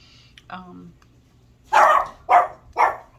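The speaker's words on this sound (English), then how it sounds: "Excuse me, that's my dog." A pet dog barks three times in quick succession near the end, close and loud, after a quiet stretch with faint background sounds.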